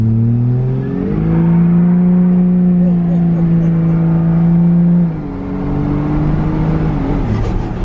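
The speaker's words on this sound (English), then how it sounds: "you literally just broke the tires loose doing about 30 miles an hour" A diesel pickup truck revs hard and accelerates with a loud, droning engine tone that climbs in pitch, then drops and settles around the five-second mark. It is close and steady, with no talk.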